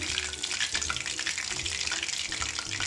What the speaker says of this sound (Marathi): आता अशा प्रकारे मी सर्व पीसेस तळून घेते